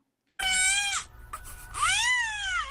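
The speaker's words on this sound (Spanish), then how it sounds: "al llorar suena como un gatito" A newborn with microcephaly gives a shrill, high-pitched cry that sounds like a kitten's mew. Two long, close wails are separated by a brief pause.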